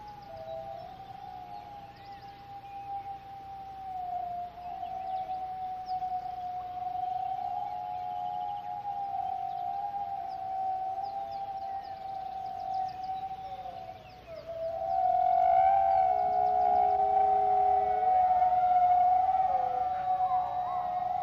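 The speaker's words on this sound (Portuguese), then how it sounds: "O uivo de um lobo" A wolf howls in one long, sustained, wavering note that holds steady for many seconds, then swells louder as a second higher voice joins in, set against faint outdoor background.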